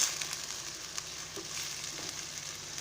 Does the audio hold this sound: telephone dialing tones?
no